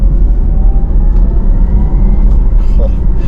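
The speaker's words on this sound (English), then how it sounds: "Even with the sport sound off, you really do hear that rear motor, especially in first gear." A Porsche Taycan Turbo GT rear electric motor pulls hard in first gear, its faint high whine riding over loud, constant road and tyre rumble inside the moving car.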